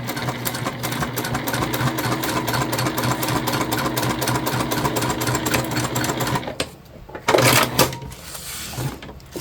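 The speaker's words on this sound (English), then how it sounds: "We're stitching down those handles another time so they get a lot of stitches." A sewing machine runs steadily at close range, stitching down bag handles with a fast, even mechanical whir for about six seconds, then stops, leaving brief handling clatter.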